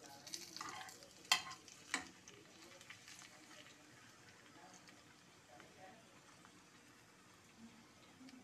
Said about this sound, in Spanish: Estamos friendo el chile ancho.